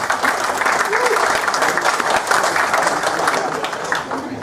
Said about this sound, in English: I feel like there should be a round of applause after that